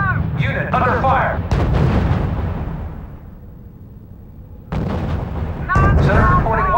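Heavy artillery fire booms in a real-time strategy battle in the game R.U.S.E., with radio-style voice chatter around the loud, broadband blasts that swell and fade.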